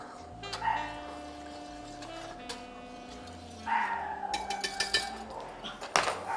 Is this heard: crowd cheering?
no